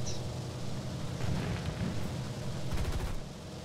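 Deep, rumbling explosions in War Thunder boom and roll in bursts, with a sharper crackling blast near the end, loud and close with no talking.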